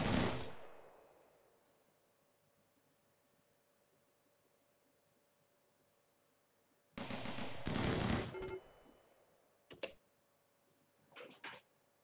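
Twin-barrel turret in a modded video game firing loud bursts of rapid gunfire, one long burst mid-clip followed by a few shorter ones, after an initial blast that decays into near silence.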